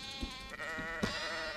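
Sheep bleat in the video game SkySaga, two or three wavering, nasal cries over a quiet game background with no talking.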